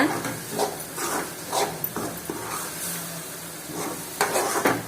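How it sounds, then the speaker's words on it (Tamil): Ingredients for ragi kozhukattai sautéed in a pan, with a continuous soft sizzle and hiss as a spoon stirs and scrapes, a few light clinks of utensil on metal, close and steady throughout. "சேர்த்து ஒரு அஞ்சுலேருந்து பத்து நிமிஷம் வரைக்கும் நல்லா இந்த மாதிரி வதக்கிடுங்க"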